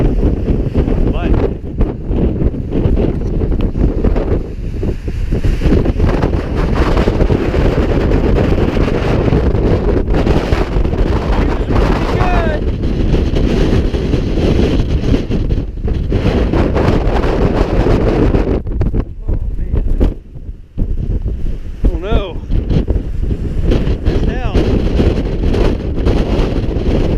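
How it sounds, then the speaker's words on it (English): Strong wind roars across the microphone on a solo hike in Arizona's Grand Canyon, near Nankoweap, a loud, continuous buffeting with gusts and a brief lull near the end. "I gotta get out of the wind."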